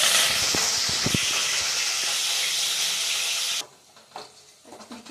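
Cut green chillies frying in hot oil make a loud, continuous hiss that stops abruptly, leaving quiet clinks and faint kitchen noise.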